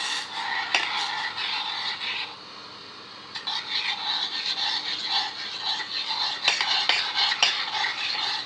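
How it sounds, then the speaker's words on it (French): A utensil stirs a warming mixture gently in a pan, giving repeated soft scraping strokes against the metal with a faint sizzle beneath, close and fairly loud, pausing briefly mid-way before resuming. "on remue délicatement"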